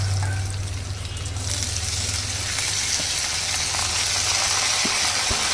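Grated raw mango frying in hot oil with peanuts and chana dal, a steady close sizzle with faint stirring scrapes and a few soft clicks, no voices.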